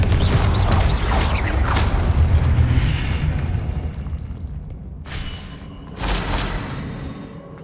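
Repeated Confringo fire-spell blasts in Hogwarts Legacy, loud booming bursts with crackling debris overlapping in a dense barrage, a brief lull, then another sharp burst near the end.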